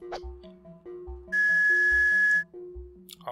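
A sustained whistle is blown in the video game Jazzpunk, one steady, loud, pure tone lasting about a second over a bouncy, rhythmic game music loop with no talk.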